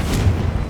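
A short, loud, booming blast from the Confringo fire spell in Hogwarts Legacy, a deep rumbling burst that lingers briefly with no speech over it.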